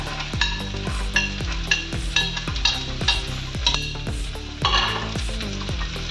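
Soaked chickpeas frying with onion and chilli, with a spoon scraping and knocking against the pan in a quick, regular rhythm over a continuous sizzle, close and loud.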